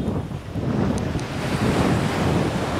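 Ocean waves breaking at a beach, with a loud, continuous roar of surf and wind buffeting the microphone, rising slightly in strength toward the end.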